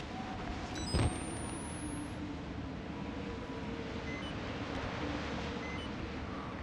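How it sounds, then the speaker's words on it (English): Strong wind blows outside in the horror game Outlast Whistleblower, a steady roaring rush with a brief thump near the start and a faint rising whine above it. "It's really windy outside."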